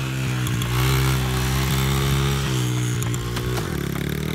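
A stolen dirt bike engine revving loudly and close, a steady buzzing drone that holds its pitch and then drops slightly near the end as the rider pulls away.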